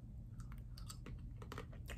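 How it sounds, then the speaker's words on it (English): Brittle taffy candy crunches and cracks between the teeth in close, quiet chewing, with a steady run of sharp bites and crackles over a low background rumble. "It's literally crunching apart in my mouth."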